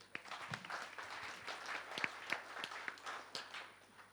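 Conference attendees give a scattered round of clapping, sparse and uneven with individual sharp claps standing out against a quiet room, fairly faint and brief.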